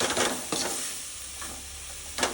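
Ground paste and greens sizzle in a pan while a spoon stirs them, with a continuous hiss broken by a few sharp scraping strokes. The cooking is for a village-style murungai keerai kuzhambu.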